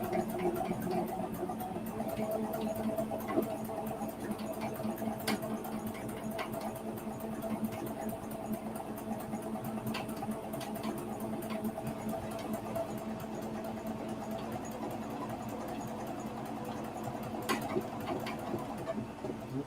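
A domestic sewing machine runs steadily while embroidering, a quiet continuous mechanical whir with rapid needle patter and occasional small clicks, heard close up with no talking.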